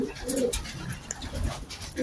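Pigeons in a loft cooing softly and close by, a couple of short low coos among light rustling over about two seconds.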